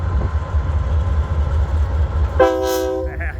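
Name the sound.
Union Pacific freight train passing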